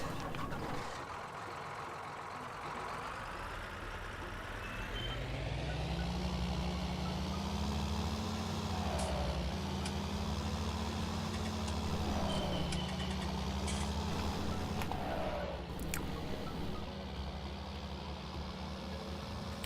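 Steady, droning tractor engine from Farming Simulator 19, idling and then revving up to a constant low hum, with faint beeps and clicks on top and no talking.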